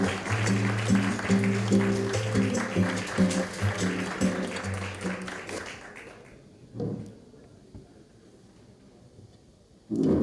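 Audience applause at a book concert in Seoul with the city's mayor, a dense stretch of clapping that fades out over several seconds into near quiet, ending with a brief burst.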